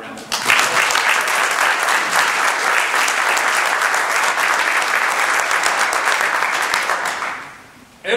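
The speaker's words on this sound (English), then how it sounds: "let's have a round of applause" An auditorium audience breaks into loud, sustained applause, dense clapping from many hands that holds steady for several seconds before tapering off near the end.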